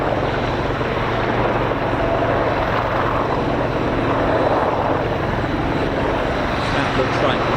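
A Qatari Air Force Apache helicopter arrives at RAF Fairford with a dense, steady rotor and engine roar, while people talk over it nearby.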